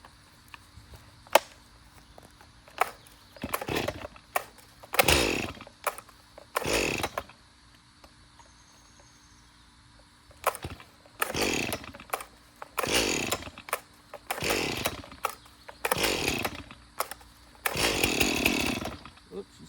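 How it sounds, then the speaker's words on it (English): A long-unused, freshly fueled chainsaw is pull-started several times, with sputtering bursts between rope pulls and pauses, before it catches and runs in repeated revving surges, close and loud. "got the chainsaw all filled back up with fuel. Let's see if we can get this thing to crank"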